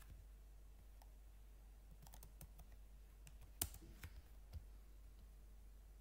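Quiet typing on a computer keyboard under a low steady hum, scattered key clicks in short bursts with a few sharper taps near the middle, close and soft.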